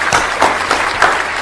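A short burst of applause in a room honouring roller skater Felix, a few seconds of close, bright clapping from a small group, fairly loud and without talk.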